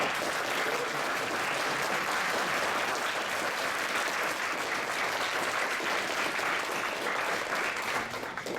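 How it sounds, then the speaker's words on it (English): An audience applauds at the end of a games industry lecture, a loud, even wash of many hands clapping that holds steady and fades slightly at the close. "So I want to give later big applause."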